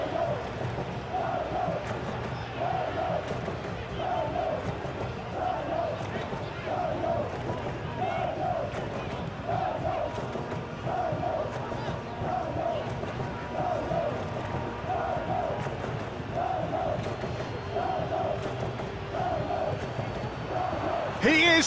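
Crowd noise from a PES 2021 football video game, a Rayo Vallecano vs Girona simulation, rises and falls in rhythmic waves of chanting and cheering beneath ongoing commentary.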